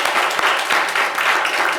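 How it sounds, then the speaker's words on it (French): A studio audience on a call-in radio show gives a short burst of applause for a caller, dense and steady, lasting under two seconds. "On vous applaudit"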